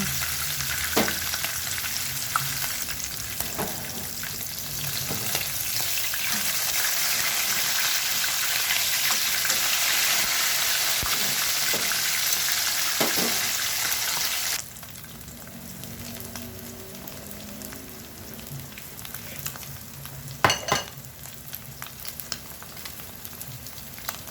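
Oil sizzles and crackles steadily as small anchovies coated in cornstarch and flour fry, loud at first, then the sizzle drops to a quieter bubbling with occasional utensil scrapes.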